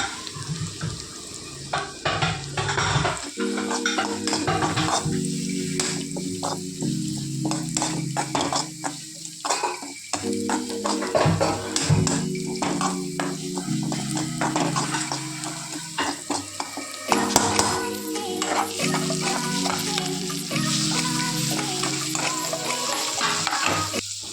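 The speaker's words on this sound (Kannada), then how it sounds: "ಇನ್ನೊಂದು ಒಲೆಯಲ್ಲಿ ತೆಂಗಿನಕಾಯಿ ಫ್ರೈ ಮಾಡ್ತಾ ಇದ್ದೇನೆ ಅದಕ್ಕೆ ಸ್ವಲ್ಪ ಕೊತ್ತು ಸಾರಿ ಕರಿಬೇವಿನ ಸೊಪ್ಪು ಹಾಕ್ಕೊಂಡು ಫ್ರೈ ಮಾಡಿ ಇಟ್ಟಿದ್ದೇನೆ" Grated coconut frying with coriander and curry leaves in a pan crackles and sizzles under repeated clattering, scraping stirs of a utensil against metal, lasting throughout, with no voices.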